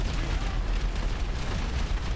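A house being bombed in GTA 5 sets off a loud, sustained explosive roar, with dense low-end rumble and crackling debris filling the whole stretch without letup.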